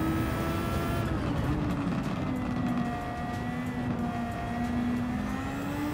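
Super Formula race cars roar together in Gran Turismo 7, their high engine notes droning loud and close with gently rising and falling pitch as they run at speed, with no talking.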